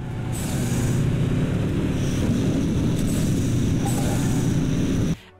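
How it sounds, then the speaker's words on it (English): Mitsubishi Lancer in the racing video game L.A. Rush, a loud steady engine drone with hissing turbo whooshes rising and falling, continuous and close before cutting off abruptly at the end. "you can hear the turbo in a Mitsubishi Lancer"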